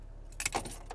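A Maserati Levante key fob jingles briefly in a hand, a quick metallic rattle of a few clinks close to the microphone, alone over faint background hum.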